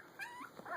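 A two-week-old Siberian Husky puppy gives a brief, thin, wavering howl with rising and falling whimpering notes, faint and close in a quiet room.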